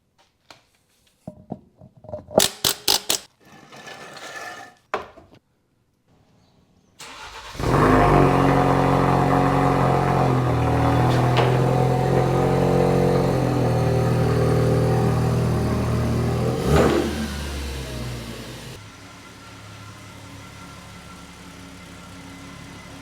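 A Ford Falcon starts and is driven in, preceded by scattered clicks and knocks, then a steady, loud engine drone for about ten seconds before it cuts to a quiet idle-like hum.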